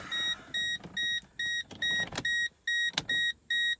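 A scrapped Mercedes-Benz car sounds its warning chime, a steady string of eight evenly spaced electronic dings at moderate volume over a faint background rumble, with a couple of knocks and no talking.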